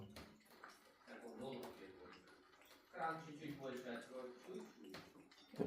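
A household tap runs in a steady thin stream while a cat drinks from it, the splashing water heard softly beneath people talking throughout.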